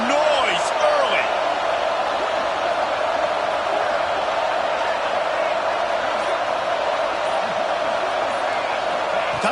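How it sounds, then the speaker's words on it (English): Roaring crowd noise filling a college football stadium during a game, a dense continuous wall of cheering that stays loud and steady throughout. "This crowd bringing the energy and noise early."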